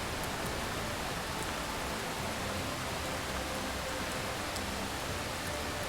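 Rain falls steadily near a temple, a dense, even hiss that fills the whole stretch at moderate loudness, with faint scattered drop ticks and no voices.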